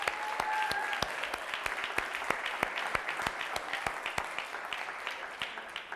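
TEDx event audience at Bentley University giving a round of applause, a moderately distant, even wash of many hands clapping with a few sharper individual claps standing out.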